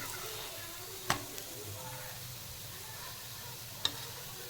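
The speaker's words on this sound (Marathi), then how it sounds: "असे पाच मिनटं मंद आचेवर चांगलं व्यवस्थित भाजून घ्यायचे" Kothimbir vade shallow-fry in a pan over low heat with a soft, continuous sizzle, broken by two sharp clinks of utensil against the pan.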